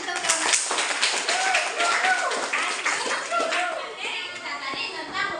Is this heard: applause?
yes